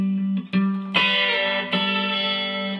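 Acoustic guitar playing measure 11 of a song, a few ringing plucked chords and struck notes that sustain and overlap, close and alone.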